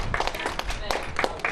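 Small group applause at a Kentucky junior golf awards presentation: soft, scattered clapping with a few sharper claps, under people talking nearby.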